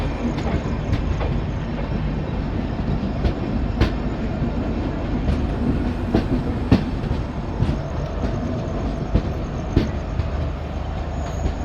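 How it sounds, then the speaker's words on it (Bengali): Garib Rath Express train running on rails after leaving Malda, a steady close rumble from inside the coach with rhythmic clickety-clack of wheels over rail joints and occasional sharp clanks, no voices. "মালদা থেকে ট্রেন ছেড়ে দিয়েছে"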